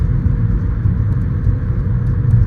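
A Mercedes with a 5-speed automatic transmission drives along as it shifts down on its own, giving a steady, loud low engine rumble and road hum heard from inside the cabin.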